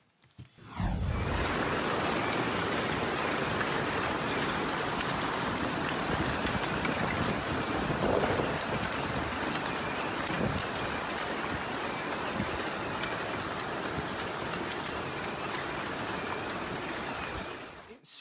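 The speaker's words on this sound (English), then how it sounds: "A nasty hailstorm in Spain created what can only be called a hailberg." A nasty hailstorm in Spain fills the street with a steady, dense hiss of rain and hail. The downpour holds an even level throughout and sounds fairly close, with no voices over it.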